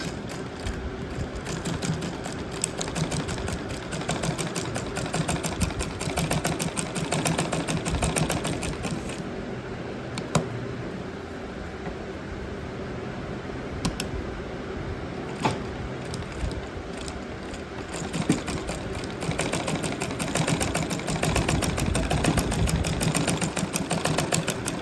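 A sewing machine stitches a fabric tassel nearby, a steady fast mechanical whir with dense clicking that runs continuously for the whole stretch, with no talking.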